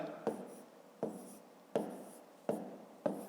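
Pen strokes scratch on paper in five short, evenly spaced bursts, close and fairly quiet, as numbers are written out during long division.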